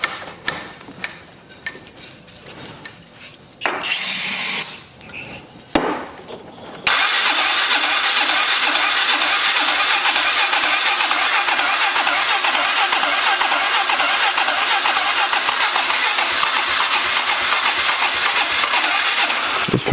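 A 2003 Polaris 500 ATV, leaking oil into its air filter box, cranks through several tries and then catches, settling into a loud, steady running engine that continues close up to the end.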